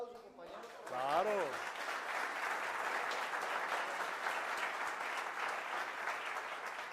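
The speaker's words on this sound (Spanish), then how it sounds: "Javier yo creo que merece un aplauso, compañeros" A meeting audience breaks into sustained applause after a brief spoken line, the clapping dense, even and moderately loud, holding steady for several seconds.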